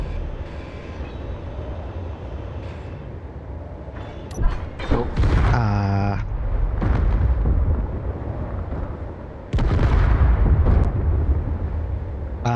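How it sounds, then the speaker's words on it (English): In the video game Liberate Mars, a rolling rifle sets off repeated explosions: booming bursts and crunching blasts, some with ringing tones, rise over a steady rumbling game soundscape. "There's some explode noises going on."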